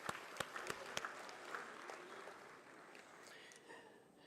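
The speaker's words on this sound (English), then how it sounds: "please give a big round of applause for the future of pharmacology" Audience applause at a pharmacology association conference, a few sharp claps at first that swell into a soft, fairly distant round of clapping from a hall crowd.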